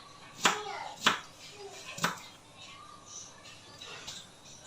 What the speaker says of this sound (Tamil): ஸோ ஒரு பாதி வெங்காயத்தை நம்ம வந்து கட் பண்ணி சேர்த்துக்கலாம்.